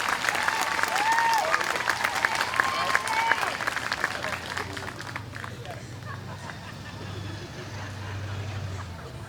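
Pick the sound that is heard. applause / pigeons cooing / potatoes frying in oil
applause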